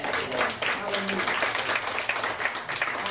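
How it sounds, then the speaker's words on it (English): A church congregation claps hands in a quick, uneven patter while voices carry over it. "Clap them hands right there."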